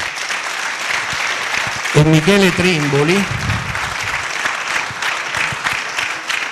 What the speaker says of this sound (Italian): Eccolo lì, fate un applauso.